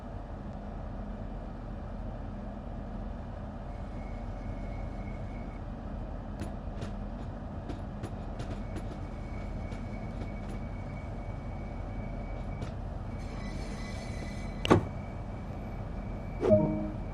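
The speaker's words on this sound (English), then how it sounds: "This particular train is a Class 395 Javelin built by Hitachi in Japan for European operation." A steady low rumble of a Hitachi-built Class 395 Javelin high-speed train, six cars, running on rails in Train Sim World 2, with faint rhythmic clicks and a couple of louder clunks near the end.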